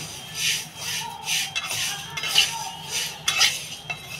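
Fenugreek and fennel seeds frying together in a pan, with repeated metallic scraping of a spoon stirring against the pan over a low sizzle.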